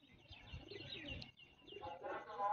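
Pigeons coo on a rooftop, a few soft, low rolling coos close by with light chirps and faint rustling between them, fairly quiet overall.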